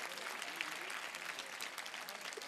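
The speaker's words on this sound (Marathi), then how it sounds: "कृपया आपण एकदा जोरदार टाळ्या वाजवून यांचं कौतुक करायचं आहे." An audience applauds student performers after a stage drama about Gurudev Samantabhadra, with sustained, even clapping that is fairly soft and distant throughout.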